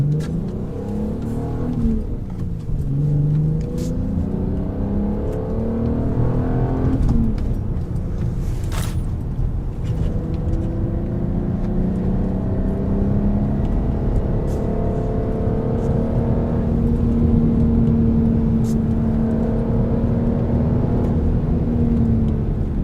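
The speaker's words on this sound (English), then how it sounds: "It is so fun to drive like this in a Cayenne." Porsche Cayenne SUV with a six-speed manual gearbox driven hard on a twisty road, engine revving up and easing off through gear changes, a steady close in-cabin drone with rising and falling pitch, no talk.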